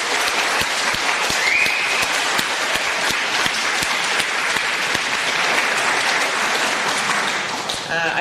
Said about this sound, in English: So a round of applause for the jurors.